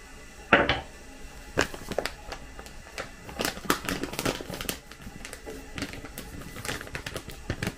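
Light crisp rattles and clinks as dry cereal flakes are spooned into a bowl, several separate scoops with small pauses between them, close by.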